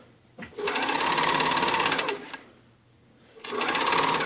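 A sewing machine stitches a knit neck binding in two fast, continuous bursts, loud and close, separated by a short pause.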